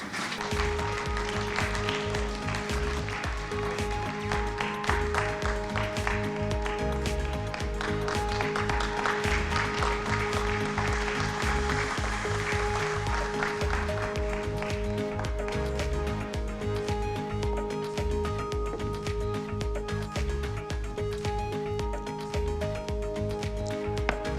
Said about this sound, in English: Please welcome the panelists with a round of applause.